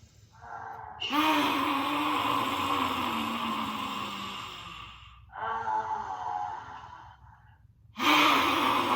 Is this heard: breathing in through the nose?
yes